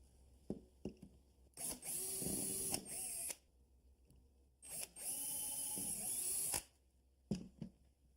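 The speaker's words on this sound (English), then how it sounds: "Now we want to pre-drill a couple of holes." A power drill whirs in two bursts of a second or two each while pre-drilling holes in a cabinet, with small clicks and handling knocks before, between and after.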